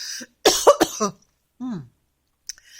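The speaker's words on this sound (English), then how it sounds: "That's why I'm coughing now." A few harsh coughs in a quick burst, then a single deeper cough after a pause and a faint throat sound, close and fairly loud.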